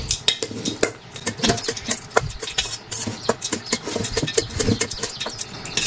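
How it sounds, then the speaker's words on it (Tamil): A metal spoon stirs lemon rice with salt in a cooking pot, making rapid clinks and scrapes against the pot in an irregular, busy rhythm, close and clear, with no talking. "அப்படி கிளறி விட வேண்டியதுதான்"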